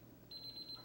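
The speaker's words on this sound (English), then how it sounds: "Sorry for the beeping." A high electronic oven timer beeps in quick pulses over faint background hum.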